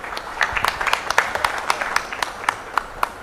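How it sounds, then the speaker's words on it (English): A summit audience gives brief applause, with sparse, distinct claps in an uneven rhythm over a low room murmur. "Let's have a big round of applause from him"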